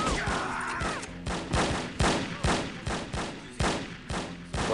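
Gunfire in the No One Lives Forever video game: loud, close shots fired in a rapid, uneven string of repeated bangs, each with a short decaying tail, with no speech over them.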